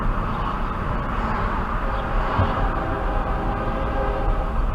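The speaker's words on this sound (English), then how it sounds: "the train coming." A train approaches in Butler County, Ohio, a steady, loud rumble of rolling wheels and engine that holds throughout without fading, with no talk.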